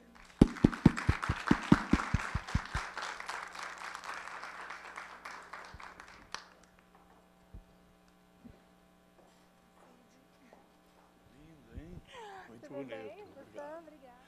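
An audience at a meeting of a standing committee for the elderly and pensioners breaks into a loud burst of clapping that starts with a few sharp claps and fades after about six seconds, over a steady mains hum, with a voice heard later.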